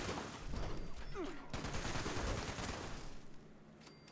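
A heavy weapon from the Big Guns class fires in Fallout 76, used by a player in power armor. It lets out a sustained, rapid burst of loud gunfire that rattles for several seconds before easing off.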